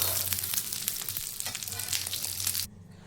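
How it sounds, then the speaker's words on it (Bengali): Eggs frying in hot oil give a steady, dense sizzle throughout, close and fairly loud, that cuts off abruptly near the end. "এখন এই ডিমগুলোকে তুলে নেব আর বাকি ডিমগুলোকেও ভেজে নেব।"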